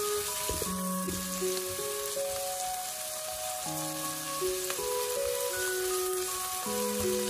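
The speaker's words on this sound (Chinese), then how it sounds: "把豆瓣酱给它炒出红油" Chili bean paste frying in oil in a wok for a pork blood and tofu dish, a steady close sizzle with tonal music playing over it throughout.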